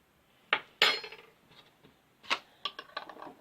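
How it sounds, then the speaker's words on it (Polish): A spoonful of flour tipped into a small glass jar that holds half a jar of water, with a few soft clinks of a metal spoon against glass, close up and quiet. "Dokładam do tego łyżkę mąki."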